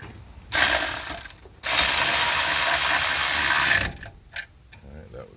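A hand ratchet tightens the brake master cylinder nuts on a 1984 Ford F150, with two loud, close bursts of rapid clicking and a few short clicks after them.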